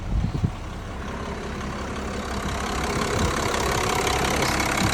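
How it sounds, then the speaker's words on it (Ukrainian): The 3.2 OM648 diesel engine of a Mercedes Sprinter 516 W906 van idles steadily with a low, rumbling drone that grows slightly louder partway through, with no voices. "двигун працює ідеально"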